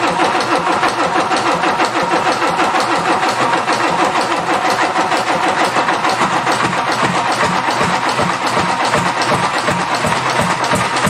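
A Mazda SP20 engine, pulled from a farm after sitting idle, cranks over and over without firing because the fuel is cut; the starter's loud, steady churning rhythm runs unbroken and close for about eleven seconds.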